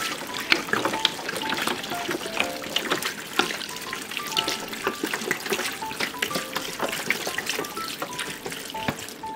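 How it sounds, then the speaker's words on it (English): Water pours and splashes into a big pot of crab apples at close range, trickling and gurgling with small clinks, continuous for several seconds. "Fill the water at the same level as crab apple and cover the lid."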